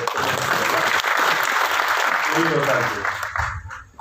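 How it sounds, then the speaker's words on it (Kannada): A crowd claps steadily at a farewell function for departing police officials, a dense sustained round of applause that tapers off at the end, with voices mixed in. "ಎಷ್ಟು ಚಪ್ಪಾಳೆ ಹೊಡೆಯೋದು ಎಷ್ಟು ಖುಷಿ ಪಡಿಸೋದು"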